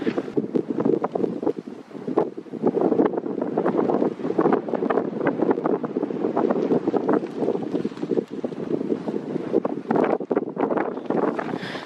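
Steady wind buffets the microphone outdoors on open lava rock in Hawaii during a turkey hunt, a continuous broadband roar with gusty swells and no speech.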